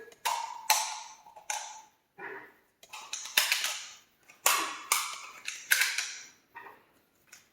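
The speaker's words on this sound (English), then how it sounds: "I'll reload up this magazine real quick" Shotgun shells being pushed one by one into a Charles Daly AR12S box magazine, a series of close, sharp clicks and snaps in irregular bursts with short pauses between rounds.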